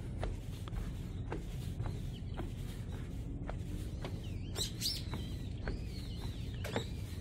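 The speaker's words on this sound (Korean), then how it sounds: "참새 소리도 들리고요." Small birds chirp and twitter in a mountain forest along a wooden deck trail on a hillside, several short calls scattered at moderate distance over a steady ambient wash, with no talking.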